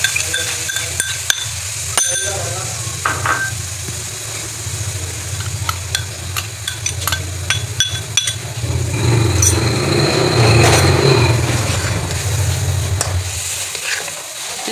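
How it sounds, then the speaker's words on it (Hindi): Garlic fries in ghee with a splash of water in a pan over a high flame for a Balochi roast, a steady sizzle with scattered clicks and utensil taps, swelling louder near the end. "चलिए जिससे भी गलने तक हम इसे फ्राई करेंगे।"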